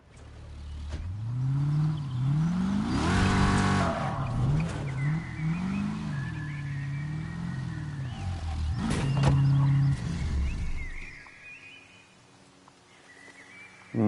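A Jeep driven in Wreckreation, the engine revving and rising and falling in pitch with bursts of tire squeal and skidding, loud and continuous for most of the stretch before easing off near the end.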